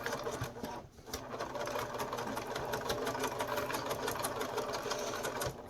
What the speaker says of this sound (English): So then I'm just going to sew down the pleats.